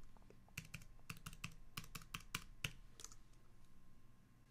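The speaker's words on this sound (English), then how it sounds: "type in a new password" A computer keyboard being typed on while a new password is entered: a quick burst of crisp, close key clicks in an irregular rhythm, fairly quiet, with no talking.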